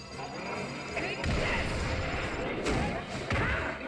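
A grenade blasts during Kid Icarus: Uprising gameplay, landing as heavy thuds around 1.3 s and again near 2.7 and 3.3 s over a dense bed of game music and effects.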